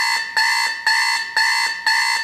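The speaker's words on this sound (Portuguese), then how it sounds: "Isso não é alarme de fogo não, é o despertador." An alarm clock rings in a loud, harsh electronic beep, repeating in five even pulses about half a second apart, close and alone with no talk.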